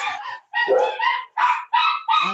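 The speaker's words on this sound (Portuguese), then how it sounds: "desculpa, os cachorros aqui." Dogs barking in a series of about six sharp, loud, close barks with brief gaps between them, standing alone without talk.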